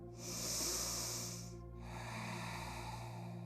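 A deep breath drawn in during a morning yoga session, heard as a soft airy hiss that swells for about a second and a half and then gives way to a quieter, steady breathy rush, with no talking over it.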